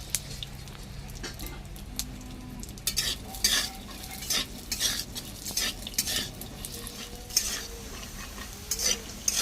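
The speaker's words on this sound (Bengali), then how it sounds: "বাদাম ভাজা হয়ে গেছে" Home-grown peanuts fry in oil in a hot wok: a close, continuous sizzle broken by repeated scraping stirs and light metallic clinks of a utensil against the pan.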